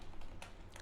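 Typing on a computer keyboard while entering code, heard as two or three soft, quick keystrokes spaced apart, faint and close against a quiet low hum, with no one talking.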